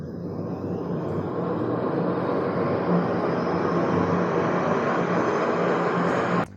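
The rear hub motor of an HMP Lightning electric scooter spins up on a dyno as a loud, continuous whirring drone that holds steady for several seconds and then cuts off abruptly, with no one talking.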